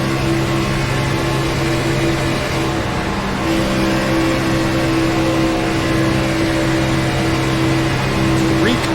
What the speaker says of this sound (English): Riding on board with the number 47 machine of Matthew Reek.